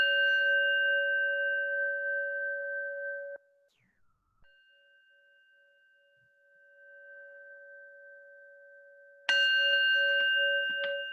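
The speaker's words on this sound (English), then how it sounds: "And to end the meditation, I'll ring the bell." A meditation bell is rung at the close of a session and rings out as a pure sustained tone that slowly fades, then stops. After a near-silent gap it is struck again, bright and loud.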